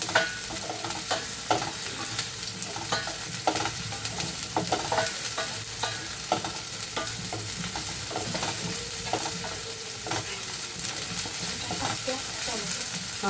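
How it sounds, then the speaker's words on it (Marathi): Onion softens in a hot pan with a constant sizzle, while a spoon stirs and scrapes in quick, repeated strokes close by. "हे बघा, मस्त असं कांदा आपल्याला ना मऊ करून घ्यायचा."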